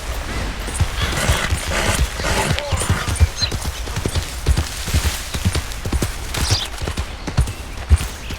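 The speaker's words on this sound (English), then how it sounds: "That's a nice horse." Horse hooves clip-clop steadily through the whole stretch in Red Dead Redemption 2, a brisk, even rhythm of sharp hoof strikes, near and fairly loud over a constant outdoor ambience.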